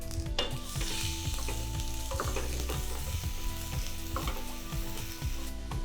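Red onions frying with seasoned shrimp in a pan for curry shrimp, a loud continuous sizzle close up, broken by stirring clatter and scraping, with no talking.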